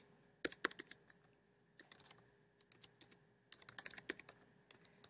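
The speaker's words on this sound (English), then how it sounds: "I'm going to just type in www.whitehouse.gov and click on Cite It" Quiet typing on a computer keyboard: irregular clusters of light key clicks with short pauses between bursts, close and soft over a faint background hum.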